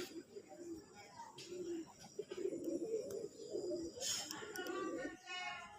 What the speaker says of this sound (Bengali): এখানে আরেক জোড়া আকাশি কালার কবুতর নটটা কীভাবে ডাকাডাকি করতেছে